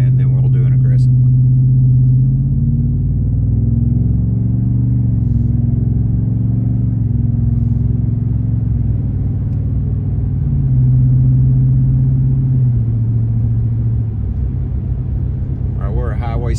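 Interior cab sound of a 2021 Ford F-150 with the 5.0 V8 and MBRP exhaust under normal acceleration, a loud steady low droning rumble that rises and settles through gear changes, with brief voice at the start and end.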